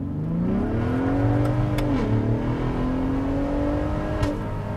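A 2022 Ford F-150 Raptor pulling hard at full throttle, its engine note climbing steadily, then dipping once at a gearshift before rising again, close and continuous.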